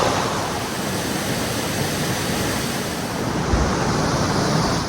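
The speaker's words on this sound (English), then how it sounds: "The waterfall was incredible, and standing there seeing that rushing cold water" Steady, dense roar of rushing cold water, loud and continuous throughout with no breaks, standing close to a powerful waterfall.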